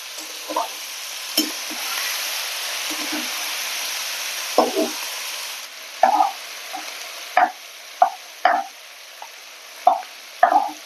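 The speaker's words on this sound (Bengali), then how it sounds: "কচুরলতিটা ঢেলে দিচ্ছি, একটু নেড়ে দেবো।" Taro stolons (kochur loti) stirred in a pan produce a soft background sizzle that fades, overlaid by irregular spatula scrapes and knocks that grow more frequent toward the end.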